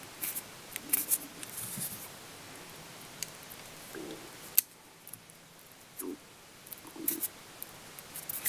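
Quiet, close snips and small clicks of a blade cutting away mylar on a fly held in a rotating vise, scattered irregularly with soft rustling between them and no talk.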